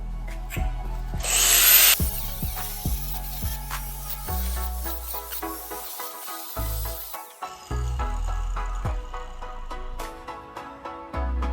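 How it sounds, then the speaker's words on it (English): Cutting into the axle tube of a Super Duty axle being swapped under a 1971 Ford F100, a loud grinding tool whine with rhythmic pulses, starts and stops across the stretch, close by. "Probably gonna end up just cutting completely through this axle tube"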